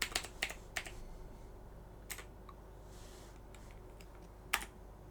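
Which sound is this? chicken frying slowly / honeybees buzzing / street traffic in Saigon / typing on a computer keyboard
typing on a computer keyboard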